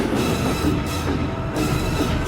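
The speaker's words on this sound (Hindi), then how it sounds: "ट्रेन आ रही है।" A train approaching a giant pit on a test track, a steady loud rumble with rolling wheel noise rising and falling across a couple of seconds, no speech.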